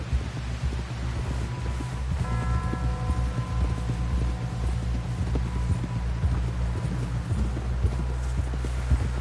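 Horse hooves clip-clop in a steady rhythm while riding in Red Dead Redemption 2, close and prominent over a low droning hum and ambient game sound, with no talking.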